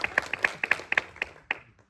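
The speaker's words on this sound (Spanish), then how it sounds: "un aplauso muy fuerte para vosotros" Hand claps at a football nostalgia fan event in Basel: a quick, uneven run of sharp, close claps that thins out and stops after about a second and a half.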